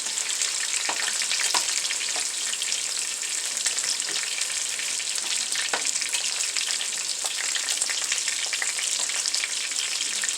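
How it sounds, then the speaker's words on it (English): Onions and peppers fry in a pan for a stew, giving a loud, steady, close sizzle with crackling pops throughout and no voices. "So we're just going to let these onions and peppers cook"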